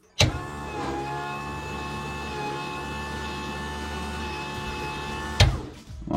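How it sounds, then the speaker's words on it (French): A small electric pump drains a buffer tank for a BMW E46 and, as the tank empties, sucks air with a steady, loud, buzzing whine that holds for several seconds before abruptly cutting off. "dès que la pompe elle fera un bruit d'air un peu bizarre, ça voudra dire que c'est bon"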